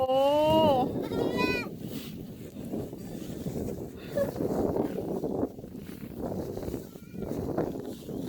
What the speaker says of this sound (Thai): น่ารักมากๆเลยลูกแพะเห็นไหม กินหญ้าอยู่